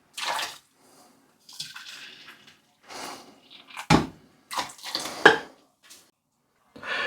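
Boiling water poured over rinsed lentils in a pot or bowl, heard as several short splashing bursts with clinks of a kitchen vessel and pauses between them, close and fairly quiet.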